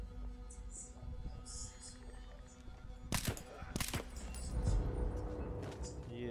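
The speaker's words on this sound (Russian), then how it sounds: "Мы ему в лицо выстрелим." Gunfire in the video game Battlefield 1: a couple of sharp, loud shots crack out close together midway, over quiet game ambience with faint background sounds before and after.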